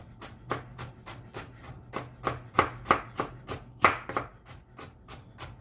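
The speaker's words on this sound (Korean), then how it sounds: "자 홍당무요 그래. 요게요 세쪽입니다. 채 썰겠습니다." A knife julienning a carrot on a cutting board, about fifteen crisp evenly spaced chops in a steady rhythm, close and distinct with no talking.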